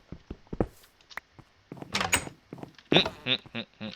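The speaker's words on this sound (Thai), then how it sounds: "อ๋อนี่เสียงประตูจริงใช่ไหม" A door in a survival building game opens or closes with a short clunk, followed by a few scraping, knocking thuds close by.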